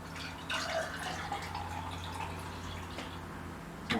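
Cold brew coffee poured over ice cubes in small snowflake-topped molds, a soft steady liquid trickle with faint drips running continuously at low level, no talking.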